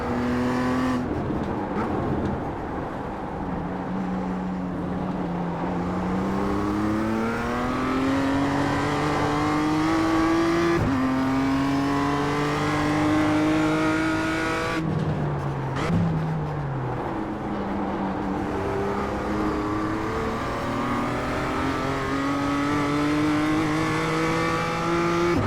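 Race car engine in the iRacing sim at the Ledenon circuit, a loud steady drone whose pitch climbs repeatedly through the gears with brief drops at shifts, close and continuous throughout.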